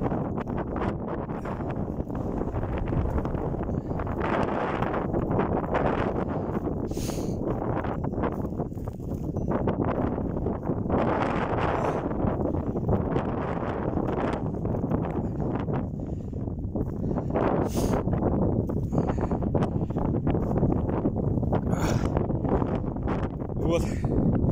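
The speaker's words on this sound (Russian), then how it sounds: "Ветер пронизывающий." Strong, piercing wind roars and buffets the microphone continuously at a Buddhist holy site near Chita, with a person speaking intermittently under the gusts.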